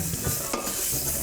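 Whole spices sizzling in hot oil in a pan, a brief close burst of bright hissing with a quick stirring scrape partway through.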